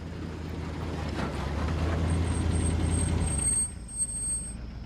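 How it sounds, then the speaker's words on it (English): A truck pulls up with a heavy low engine rumble that swells and then cuts off, followed by a brief hiss like an air brake and a faint high whine, with no voices. "a truck arrives."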